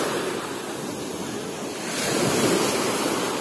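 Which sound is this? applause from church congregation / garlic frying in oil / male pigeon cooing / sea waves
sea waves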